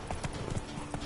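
Hooves of Roach, a horse in the video game The Witcher 3, clip-clop in a steady walking rhythm, close and moderately loud, with a faint murmur of other game sound beneath.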